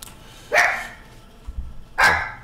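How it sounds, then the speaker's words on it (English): A pet dog barks twice indoors, two sharp, fairly loud barks about a second and a half apart, with a faint thump between them. "Dog is going nuts"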